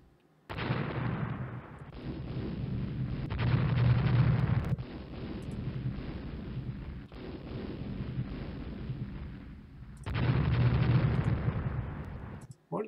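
Naval gunfire and shell explosions in the Rule the Waves warship game: heavy, rumbling broadband blasts rolling into one another over about twelve seconds, with loud surges near the start, the middle and the end, and no talk over them.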